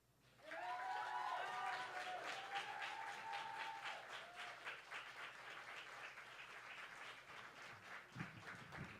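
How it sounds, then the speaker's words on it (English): A Berkeley poetry slam audience breaks into warm applause after a poem, with a few whoops and cheers rising early on. The clapping is dense and sustained for about eight seconds, then starts to taper off. "Keep that round of applause going for Saluja."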